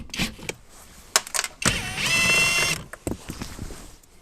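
A ratchet with a 10 mm socket loosens a bolt on a car, giving a quick run of clicking near the middle, with scattered metallic knocks and handling noises before and after.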